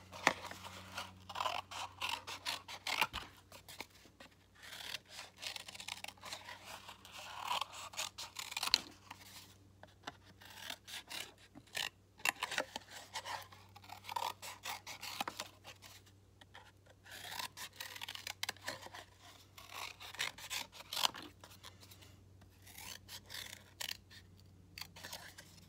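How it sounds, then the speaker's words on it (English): Scissors snipping through paper while cutting out a handmade paper flower, soft irregular crisp cuts and rustling, close and quiet, with someone talking intermittently over it. "now I'm just gonna cut my flower out"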